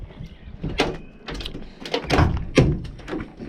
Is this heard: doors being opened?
yes